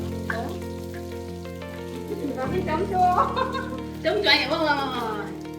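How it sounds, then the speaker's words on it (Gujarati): Potato poha tempering: mustard seeds, whole spices and curry leaves frying in hot oil, giving a steady sizzle with crackling bursts that swell near the end, under background music and a voice talking over it. "આમાં બટેકા પૌવા વઘારવાનું ચાલુ કરી દીધા છે"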